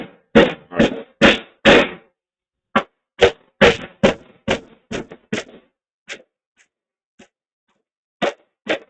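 Hammer blows ring out in a shop, first in quick sharp bursts, then spaced irregularly and growing fainter and sparser toward the end.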